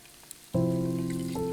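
Pork ribs hitting hot oil in a wok with scallion, bay leaf, star anise and cinnamon, a sudden loud sizzle that starts after a quiet moment and holds steady and close.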